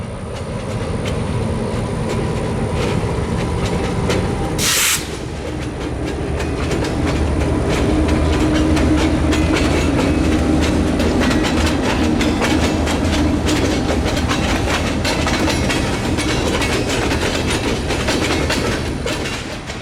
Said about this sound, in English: Here we see the ALM coupled to 3 tanks in a box as they make their way towards the diamond.